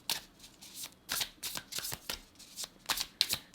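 Tarot cards being shuffled by hand: a quick series of crisp riffles and soft flicks in an irregular rhythm, close and fairly quiet, with no talking.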